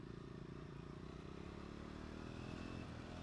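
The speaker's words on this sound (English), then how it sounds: "that was a fun little ride around on the Triumph" A Triumph off-road motorcycle ridden around a country estate at the ABR Festival hums with a steady, faint engine drone that stays at an even pitch throughout, with no voices.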